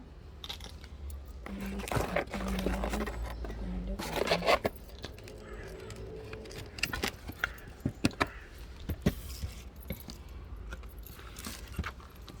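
A blade cuts into a rotting cactus on a work table, giving scattered crunchy snaps and scrapes, some sharp and close, with handling noise and quieter stretches between cuts.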